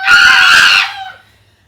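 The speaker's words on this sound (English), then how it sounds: "If you see a crocodile, don't forget to scream." Loud, sustained scream from children playing a singing game about rowing a boat and spotting a crocodile, lasting under a second before cutting off into quiet.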